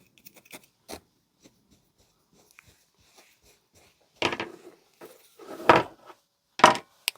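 Scissors cutting during a woodland-themed craft session, a few faint snips early on followed by three louder, crisper cutting bursts near the end, close and isolated in a quiet room.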